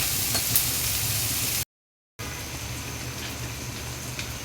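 Coral fish frying lightly in oil, a steady close hiss and crackle of sizzling that cuts out completely for a moment and then resumes at the same level.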